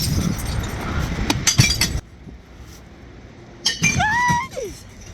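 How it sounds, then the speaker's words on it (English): Glass bottles dropped into an outdoor recycling bank on a rainy morning: bursts of clinking and clattering glass, a quieter pause, then another clatter with bright ringing tones, close by over outdoor ambience. "we went to the recycle point to drop off some glass bottles"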